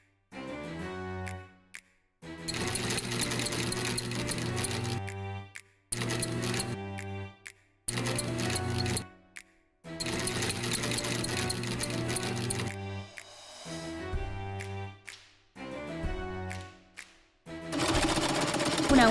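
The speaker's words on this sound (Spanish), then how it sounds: "La máquina de coser está en el lugar." A sewing machine stitches fabric in loud, rapid mechanical bursts, several runs of whirring needle action broken by short pauses, close and alone.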